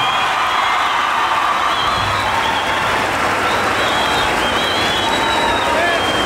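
A large crowd at a tournament applauds and cheers loudly to choose a finalist, dense continuous clapping with shouts and whistles mixed in, sustained for the whole stretch.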